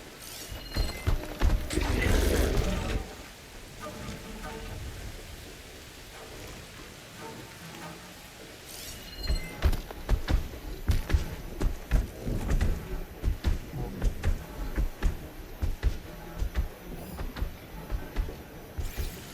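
Heavy rain in the video game Horizon Forbidden West, a steady hiss of downpour with scattered louder patter and impacts; a loud burst early on, then a quieter stretch before a denser, busier spell of drops and thuds.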